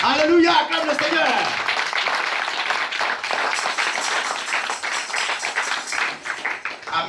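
A church congregation claps and applauds in praise, a dense wash of hands filling the room after a brief sung or called phrase at the start, continuing loudly throughout.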